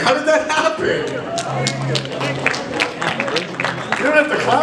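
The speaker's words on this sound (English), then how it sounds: "You don't have to clap for that." An audience claps at a 15th anniversary party, with dense, scattered applause mixed with crowd chatter and a voice speaking over it throughout.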